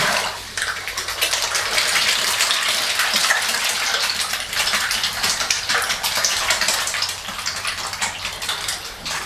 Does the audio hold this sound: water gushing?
yes